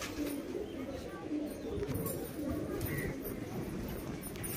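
Pigeons coo in soft, low repeated calls amid a busy, steady background of birds, likely a loft of carrier pigeons, with a constant murmur throughout.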